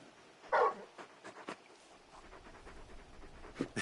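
Torgal, the large dog companion in Final Fantasy 16, pants softly and sniffs in short breathy bursts, close and fairly quiet, with one louder snort near the start.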